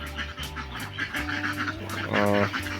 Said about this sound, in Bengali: এইখানে হচ্ছে চার পিস আমাদের এলাকার বাসা চীনা হাঁস বলি আর কি এরা